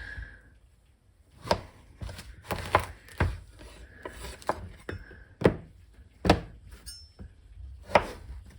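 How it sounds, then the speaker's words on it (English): Zucchini is chopped with a knife on a cutting board, giving a series of irregular, sharp, close knocks spaced about a second apart, with quieter scraping between strikes. "I'm going to get this zucchini chopped up."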